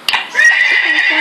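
A horse whinnies in Survivalcraft, a loud, high, wavering neigh after a brief sharp onset, lasting about a second.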